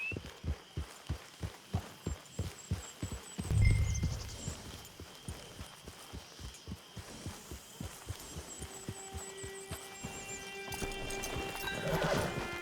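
Horse hooves clip-clopping in a steady rhythmic gait with a whinny partway through, from the video game Red Dead Redemption 2, near and moderately loud with faint ambient sounds.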